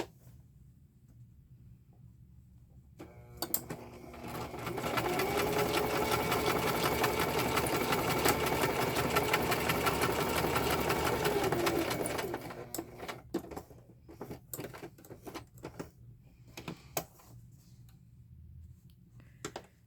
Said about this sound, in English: Grab my sewing machine. I hope this doesn't rattle you too much.